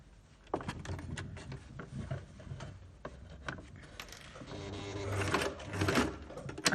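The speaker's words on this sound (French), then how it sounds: "On coud au bord." A sewing machine stitches along the edge of a fabric gift bag, running in short whirring bursts with brief pauses, then in a longer, louder run near the end, close by.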